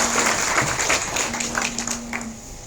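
An audience gives brief, scattered applause to welcome a guest at a Red Cross gathering, with a steady tone running underneath.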